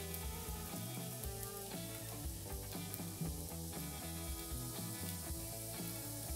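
A loud, steady sizzle of German-style pan-fried potatoes and torn, lightly crushed sausage being stir-fried in a pan, continuous and close, with clatter from stirring and no talking.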